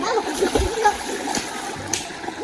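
Water splashing as people swim in a clear natural pool, a few close splashes and slaps over a flowing background, with voices talking alongside.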